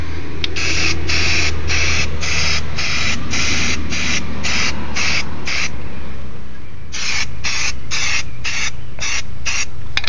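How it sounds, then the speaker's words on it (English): NeverWet coating sprays onto concrete in a run of short hissing bursts, each roughly half a second long, with a brief pause before a second series of quick spurts; close and fairly loud. "So I'm gonna spray that on there."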